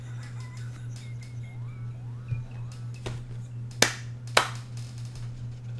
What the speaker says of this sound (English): Do you hear how he clapped for himself when he told it?